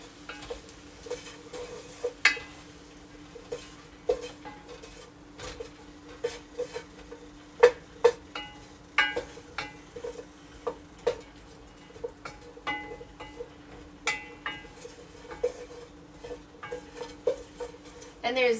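Curry stirred in a pot with turmeric: steady scraping and light clinks of a utensil against the pot, close, with a faint hum underneath.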